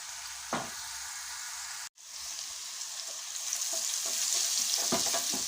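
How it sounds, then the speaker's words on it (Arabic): Two onions sautéing in ghee in a pan, giving a steady close sizzle with occasional stirring clicks and a brief dropout in the middle. "وهنا حطيت بصلتين برضو وسط مع معلقة سمنة كبيرة، وبعدين تشويحة مع بعض"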